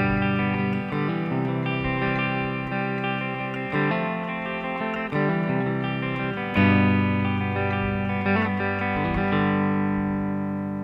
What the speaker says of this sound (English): So the intro to the song starts with a clean guitar part.